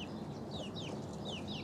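Tiny three-week-old chicks chirping on a farm, a series of thin, high, downward-slurred peeps repeating every half second or so, fairly faint over a low background rumble.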